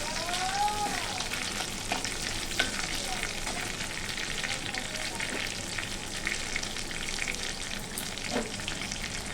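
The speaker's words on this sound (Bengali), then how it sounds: "ফোড়নটা একটু ভেজে নেব।" Bay leaf, a dried chilli, split cardamom and cumin fry in hot oil, a dense close crackling sizzle with occasional stirring scrapes running unbroken throughout.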